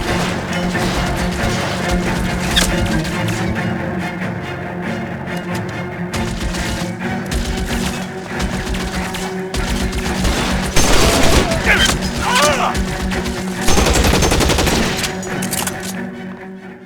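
Gunfire during a hangar shootout in the L.A. Noire video game: sustained, loud bursts of rapid shots and booming impacts over about seventeen seconds, with voices faintly mixed in.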